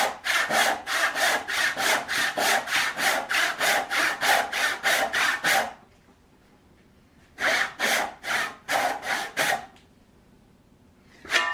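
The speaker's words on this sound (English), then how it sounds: "saw out this last triangle here" A hand saw cuts a wood tenon in steady back-and-forth strokes, a rapid rasping rhythm that pauses, then resumes for a few more strokes.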